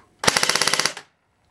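A G36C airsoft gun fires a rapid burst of about ten shots through a chronograph, a loud, close, evenly spaced rattle lasting under a second before silence.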